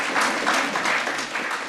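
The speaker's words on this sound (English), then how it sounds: "Another round of applause." Audience applause at a conference keynote session, a steady wash of clapping sustained for under two seconds, moderately loud with no voices.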